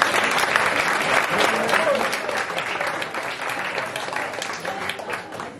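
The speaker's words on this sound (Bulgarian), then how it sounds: "Аплодисменти за нея!" A crowd applauds steadily at a closing concert, a dense wash of clapping that slowly fades toward the end.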